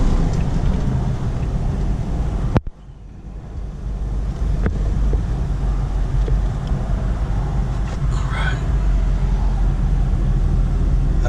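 A 1998 Jeep Wrangler Sport's 4.0 liter inline six engine drones as a steady low rumble, broken by one sharp knock near the start, with wind buffeting the microphone throughout.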